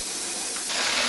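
An aerosol can sprays in a continuous, loud broadband hiss that fills the short clip without pause.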